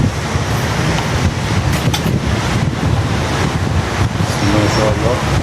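Sea waves and gusty wind heard from a tenth-floor seafront apartment in Sporting, Alexandria, a dense steady roar with wind buffeting the microphone, fairly loud and continuous with no clear speech.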